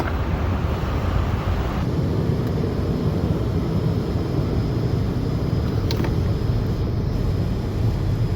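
A Citation business jet descending in a flight simulator, a steady loud broadband engine and airflow roar that holds constant throughout, with a faint tone shift partway through.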